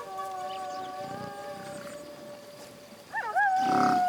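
A mockingbird imitating a wolf's howl gives a long, sustained wavering howl that holds steady, then slides into warbling upward bends, loud and close, with a rough growl-like burst near the end.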